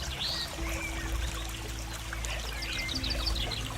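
Water trickling and pouring steadily in a natural setting, a soft continuous flow with faint birds chirping in the background.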